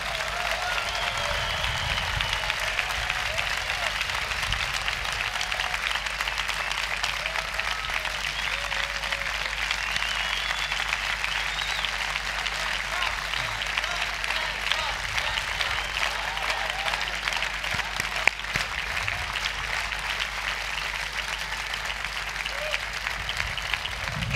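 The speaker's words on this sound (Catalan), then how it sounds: "Vull que li donem un fort aplaudiment a Vicent Marçà" A large crowd at a political party event claps for a long stretch, a continuous wash of dense applause that stays even and fairly distant throughout, with faint voices mixed in.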